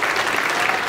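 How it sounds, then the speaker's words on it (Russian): Steady, dense audience applause fills a hall at a 2014 championship participants' parade, with continuous clapping heard close and full throughout. "Надеюсь, эти аплодисменты тоже помогут ему"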